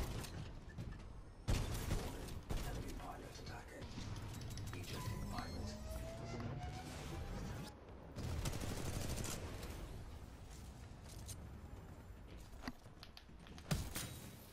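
Continuous rapid gunfire in the shooter video game Titanfall 2, dense bursts and scattered shots over a busy battle din, fairly loud and sustained throughout.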